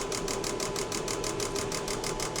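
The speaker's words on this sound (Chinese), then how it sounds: "这是目前我们进行的是怠速的测试" A Mercedes W124 220E engine idling during a fuel injector test, with a fast, even mechanical pulsing and ticking that stays steady and close throughout.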